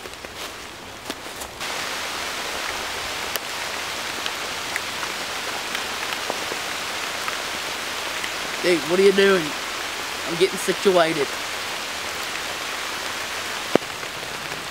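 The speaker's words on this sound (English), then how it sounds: "All right, rain's coming down." Steady rain falls outdoors in a wilderness survival spoof, a constant dense hiss of drops pattering on surfaces throughout, with two brief spoken exchanges partway through.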